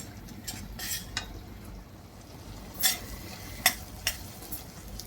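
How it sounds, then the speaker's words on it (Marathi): Sev bhaji masala fries in oil until the oil separates, making a quiet low sizzle broken by a few sharp spatula scrapes and clinks against the pan, and no voices are heard. "आता हा मसाला चांगला तेल सुटेपर्यंत आपल्याला इथे परतून घ्यायचा आहे"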